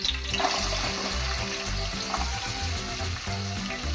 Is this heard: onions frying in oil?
yes